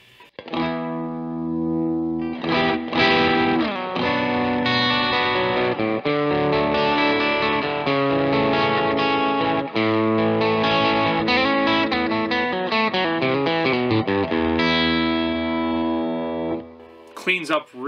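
Electric guitar played through a Bohemia DIY distortion pedal with plenty of gain, giving dense, saturated chords and riffs that ring continuously and loudly, ending in a few short picked notes.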